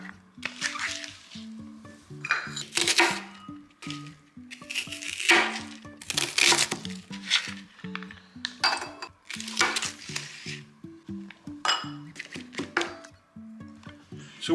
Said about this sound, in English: My main goal is to cut these up into similar sizes.